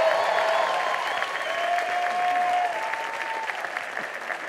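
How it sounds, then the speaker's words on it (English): Sustained audience applause at a youth comedy show, loud and even throughout with cheering voices mixed in. "Give her another round of applause"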